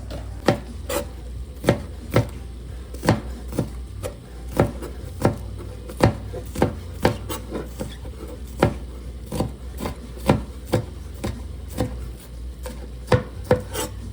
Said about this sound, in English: I'm chopping some green onion too